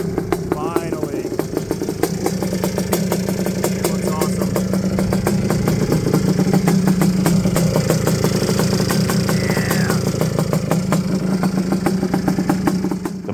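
A Honda TRX250R ATV fitted with a 380 top end idles close by, its loud, steady mid-pitched rumble pulsing evenly for the whole stretch without pause.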